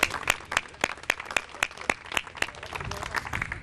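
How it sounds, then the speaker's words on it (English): A small outdoor crowd at a civic announcement event gives a round of applause, a steady patter of distinct hand claps at moderate distance that thins toward the end. "so let's give him a round of applause as well."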